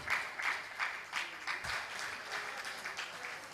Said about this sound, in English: Let's add Jara to the applause to the chairman.